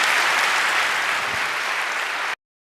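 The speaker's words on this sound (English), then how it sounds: "I ask you again for a warm round of applause for Carsten and Luca" An audience at a security conference talk gives a warm round of applause for two speakers, a dense, loud burst of clapping that holds steady for about two seconds and then cuts off abruptly.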